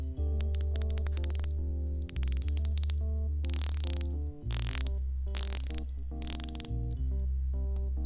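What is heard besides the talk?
Zenea Ula diver watch bezel ratcheting as it is turned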